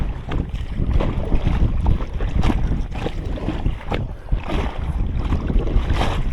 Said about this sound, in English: I'm going to try and paddle over to that shore